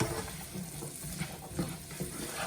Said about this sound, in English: So I'm just going to let the radishes cook.